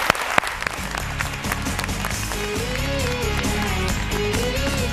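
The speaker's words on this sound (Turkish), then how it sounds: "Şimdi alkışlarla Pilates hocamız Didem Turanlı geliyor" Studio audience on a television show applauding as a pilates instructor comes on, sustained loud clapping throughout with music playing underneath.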